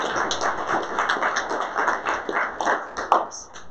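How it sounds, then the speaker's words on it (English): Dense, continuous clapping from a crowd at a React Native talk, steady and fairly close, with scattered sharper claps and a few faint voices mixed in. "Can we get a round of applause for Space?"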